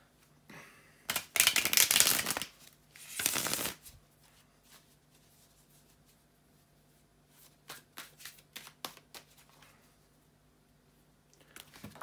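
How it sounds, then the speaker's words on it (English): Tarot cards shuffled by hand in two loud riffling bursts, then softer scattered taps and flicks as the deck is handled, close up in a quiet room. "bear with me a second, guys, to shuffle the tarot cards"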